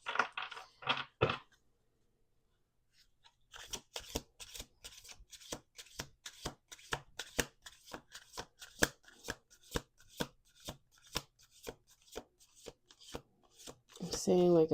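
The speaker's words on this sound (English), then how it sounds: "We're going to do one more shuffle here." Tarot cards being shuffled in a long run of quick, crisp riffling flicks after brief talk, fairly close, with a voice at the very end.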